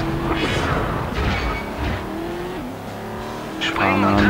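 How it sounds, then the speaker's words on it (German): A car in the PS2 game Stuntman Ignition drifts with loud, sustained tire squeal over a droning engine and rising revs, with a voice talking over it. "Drift nach links."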